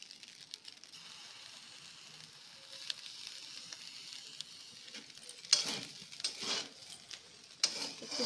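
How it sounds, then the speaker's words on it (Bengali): Soy sauce poured into a hot pan with seasoned home-style food, giving a quiet steady sizzle that flares into louder hissing bursts near the end, with no talking. "একটু সোয়া সস দিয়ে দিচ্ছি"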